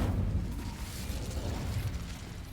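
Incendio fire spell cast in the video game Hogwarts Legacy, a continuous low rumbling roar with crackling bursts that keeps steady for the whole stretch, moderately loud.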